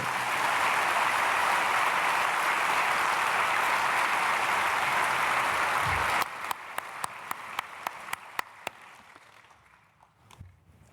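A large church congregation at Sunday worship applauds newly registered members: about six seconds of loud, dense clapping that breaks off abruptly into a scattering of separate claps, which fade into near silence.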